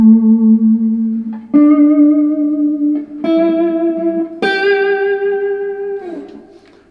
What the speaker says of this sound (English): I've selected a few different notes and I've incorporated vibrato on my first finger and on my ring finger